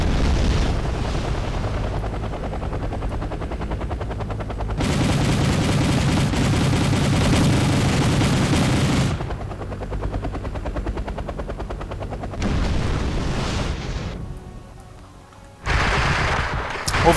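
Two heavy Russian attack helicopters rake enemy units in a video game battle, with loud, continuous rotor drone and bursts of rapid gunfire and booms in several dense waves, briefly dropping before a final surge.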